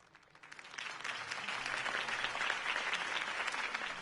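Crowd applause in the Batman: The Telltale Series video game rises quickly from near silence into steady, dense clapping that holds at a moderate level throughout.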